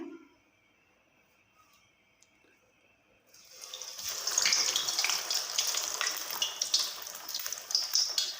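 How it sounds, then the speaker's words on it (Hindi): Chicken donuts dropped into hot oil over a low-medium flame, with near-silence giving way to a steady, bright sizzle that swells and continues close by, with no talk. "लो मीडियम फ्लेम पर आपने फ्राई करने हैं।"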